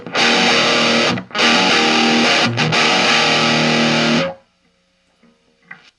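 Loud, heavily distorted electric guitar chords through an older Marshall mini combo amp at volume 9 ring out in sustained bursts with brief breaks, then cut off abruptly, leaving near silence and a faint string noise.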